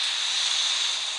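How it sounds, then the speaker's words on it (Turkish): An anti-tank missile fires in the naval combat game Modern Warships, heard as a steady loud rushing hiss of rocket exhaust that holds evenly for about a second without talk. "Tank savar ateşlendi arkadaşlar."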